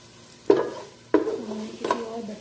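Bitter gourd (karela) frying in hot oil in a pan, stirred in three distinct scrapes over a soft continuous sizzle, close and fairly loud.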